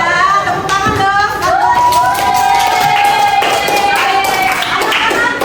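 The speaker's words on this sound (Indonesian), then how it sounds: "Tepuk tangan dong." Schoolchildren clapping in a classroom, loud and scattered, mixed with excited voices and high-pitched chatter that rises and falls over the claps.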